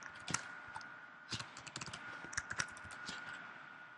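A URL being typed into a browser address bar on a computer keyboard, quiet close key clicks in an irregular run with a few sharper taps, and no voices.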